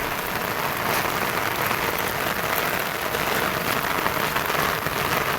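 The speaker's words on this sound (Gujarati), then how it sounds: "વરસાદ ચાલુ થઈ ગયો છે" Steady rain pouring down outdoors at the onset of a monsoon shower, a continuous dense hiss of drops striking surfaces, close and even throughout.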